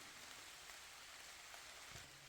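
Heavy rain falling on a forest hiking trail at Charleston Lake Provincial Park in Ontario, a steady, even hiss of drops with no talk.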